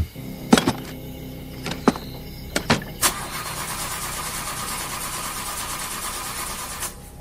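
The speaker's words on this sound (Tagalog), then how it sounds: "Sinubukan nilang paganahin ulit, pero hindi na talaga ito umandar." A vehicle engine is cranked after repair: several sharp starter bursts and stutters, then it catches and settles into a steady close idle that runs for a few seconds before cutting off.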